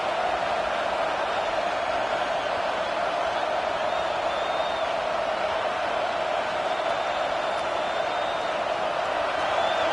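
A football stadium crowd roars on a fourth down during a college game, UAB against Georgia, producing a loud, constant wall of distant cheering and whooping that holds unbroken throughout, with no clear individual voices.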